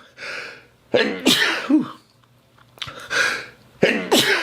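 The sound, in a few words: sneeze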